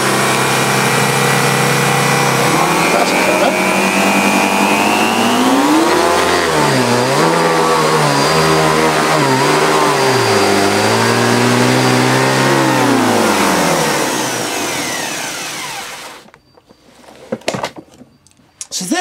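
Panasonic MC-E42 vacuum cleaner motor running loud and close, its whine dipping and rising as the speed is turned down and back, then cutting off into a few clunks and handling knocks.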